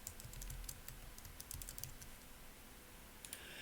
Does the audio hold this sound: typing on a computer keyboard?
yes